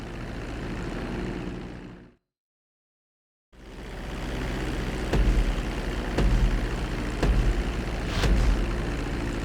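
Propeller plane engine in Grand Theft Auto V droning steadily during a runway landing approach, cutting out briefly to silence before resuming with a few louder pulses, no voices.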